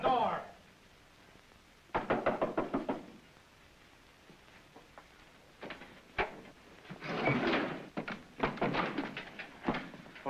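A door in a 1950 Dick Tracy radio-style drama is rapped with sharp knocks and then opened with clunks and rattles. Between them come quieter handling sounds, and voices speak around the action.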